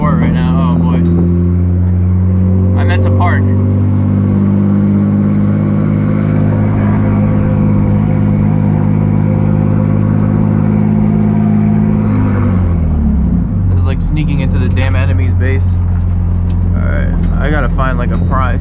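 A car engine hums steadily from inside the vehicle as it drives past the front of a municipal court, loud and continuous with a brief shift in pitch partway through, and a person talks over it.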